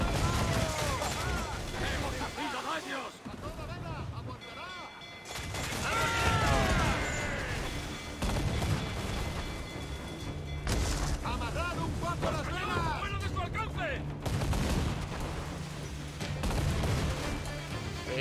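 Cannon fire in a pirate adventure video game, with repeated booming blasts and crashes mixed with game effects, heard under and between frequent excited talk.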